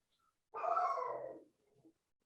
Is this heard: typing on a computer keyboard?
no